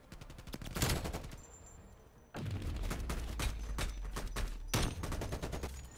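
Rapid gunfire in a competitive video game match, with loud automatic bursts and repeated shots in close succession, separated by brief pauses, with no talk.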